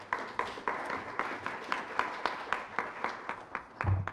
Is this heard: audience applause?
yes